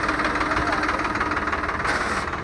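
A Sonalika DI 60 tractor runs steadily at a second-hand tractor market, its engine a loud, continuous, slightly knocking rumble that fills the whole stretch without a break.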